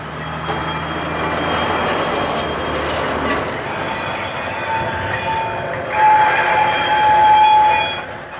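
Ruston diesel locomotives built in 1963 hauling simple freewheeling cement wagons, a steady rumble of wheels on rail with a rising metallic squeal of wheels toward the end, no voices.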